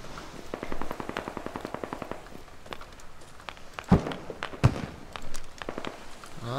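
Gunfire in the military shooter game Squad, with rapid rhythmic bursts of shots and a couple of sharper, louder single cracks mixed with footsteps, heard at moderate distance without talk.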